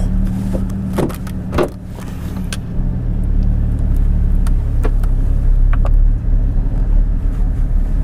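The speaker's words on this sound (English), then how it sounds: "First thoughts, cold start, just stock with the exhaust open. Sounds pretty good, it's pretty beefy." A Porsche Cayman GT4 engine on cold start with a stock exhaust and the valves open, giving a loud, steady, deep rumble that holds throughout after a couple of brief clicks and whirs at the start.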